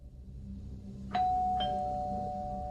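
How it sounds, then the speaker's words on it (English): A two-tone doorbell chimes once indoors in a quiet room, a clear ding followed by a lower dong that lingers and fades slowly. "The doorbell interrupted the sleep I was having up to that moment"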